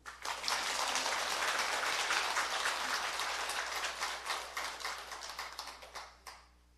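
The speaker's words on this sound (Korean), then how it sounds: "박수!" Applause from the congregation at an all-night prayer dharma service at a Korean Buddhist temple, a dense round of many hands that holds steady, then thins into scattered individual claps and stops.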